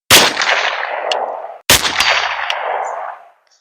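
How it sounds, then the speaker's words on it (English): Two sharp Ruger LC Carbine 5.7 rifle shots fired on a range while sighting in, each a loud crack followed by a long echoing decay, about a second and a half apart. "Initial shot, we're going to try to sight this bad boy in"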